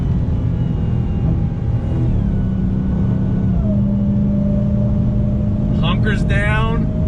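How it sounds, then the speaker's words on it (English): A 2020 Dodge Charger Hellcat Widebody under throttle: a steady, loud supercharged engine drone with rising whine tones over dense road rumble, while a voice speaks briefly near the end. "That supercharger whine."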